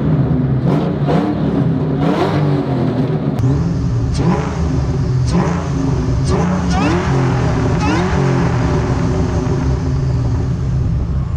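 SVT Terminator Cobra pulling away and accelerating, its engine rising in pitch through a couple of gear changes, loud and close with a steady rumble throughout.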